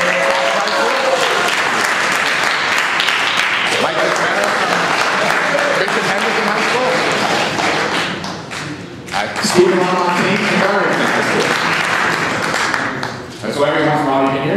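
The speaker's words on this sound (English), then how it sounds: "So here now, more chance to clap." Audience at a Who Wants to Be a Millionaire contestant introduction clapping in sustained bursts of applause, with a host talking through and between them.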